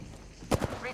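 Gunfire in Apex Legends: a couple of quick close shots crack in rapid succession, brief and sharp over a low game background.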